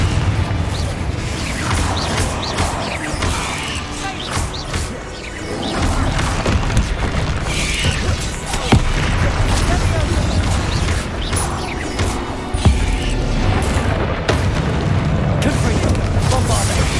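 Repeated Confringo fire-spell blasts in Hogwarts Legacy, a dense run of booming crashes and crackling bursts over constant battle noise, with a voice calling out spells.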